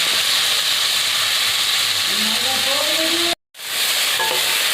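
Mixed winter vegetables, cauliflower and radish among them, frying and being stirred in a pan; a loud, close, continuous sizzle with scraping stirs and a faint whistling tone, cut by a brief silent gap near the end.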